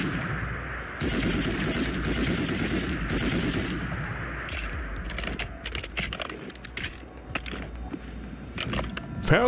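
Bursts of rapid fire from the ISO Hemlock, a unique assault rifle from a Fallout 4 weapon mod, crackling in dense, loud volleys that continue off and on, with sharp metallic clatter between shots.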